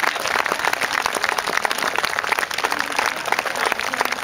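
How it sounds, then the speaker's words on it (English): An audience at a historical combat display at Fort George, Inverness, claps in a dense, continuous patter of applause lasting several seconds. "a round of applause for the combatants"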